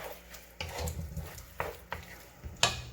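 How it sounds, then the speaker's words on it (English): Fried Dungeness crab being tossed and stirred in a hot pan, with a steady sizzle broken by several sharp scraping and clattering stirs, close and fairly loud, no voices. "We're ready to toss in our fried crab."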